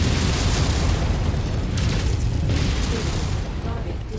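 A mech blows up in MechWarrior 5, heard as a sustained, loud booming rumble that stays dense and steady for several seconds, with voices talking over the blast.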